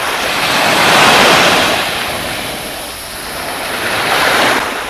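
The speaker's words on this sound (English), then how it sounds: "there's the sound of the sea coming in at Garden Cove" Ocean waves roll in and wash onto the beach at Garden Cove in a broad, hissing surge that swells and fades, with some wind noise.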